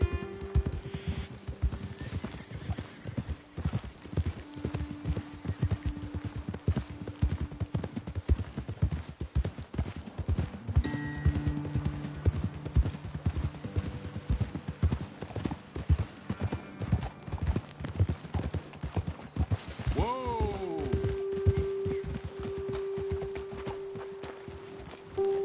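Horses trot and walk over ground in Red Dead Redemption 2, hooves clip-clopping in a steady, close rhythm throughout, with a neigh or whinny near the end and faint game sounds underneath.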